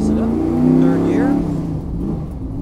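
A race car engine revs and accelerates up through the gears, loud and close, with the pitch sweeping upward between shifts while a voice talks over it.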